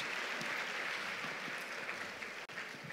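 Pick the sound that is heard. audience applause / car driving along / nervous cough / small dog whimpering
audience applause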